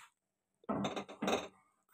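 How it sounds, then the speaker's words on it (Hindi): A metal pot (bhagona) filled with water is set down on a lit gas stove burner, giving two short clanking contacts close by with no one talking. "अभी भगोना रख दिया"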